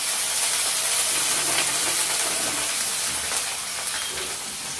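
Dry red chillies spluttering in hot oil in a wok, a dense, loud, hissing sizzle that stays steady and close throughout, tapering slightly at the end, with no speech.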